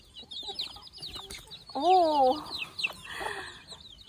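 A mother hen makes a loud, clear warbling cluck among softer chick peeps and scattered farmyard noises, close by, while a person talks briefly.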